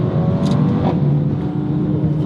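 A 2021 Mercedes-AMG A35 4Matic hatchback's small engine drones steadily and loudly from inside the cabin, with a few brief crackling exhaust pops breaking through near the start.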